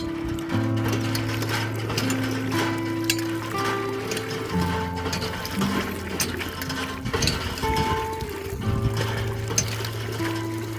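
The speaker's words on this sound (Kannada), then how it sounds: "ಈ ಥರ ಕೈಯಿಂದ ಹೊಡಿತಾರೆ ಈ ಬೋರ್ಗಳನ್ನ" A village borewell hand pump in Yadgir district, worked by hand, gives out steady rhythmic metallic creaks and ratcheting squeals stroke after stroke, close and fairly loud, with no talking.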